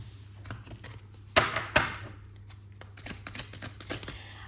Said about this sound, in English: so I'm shuffling that again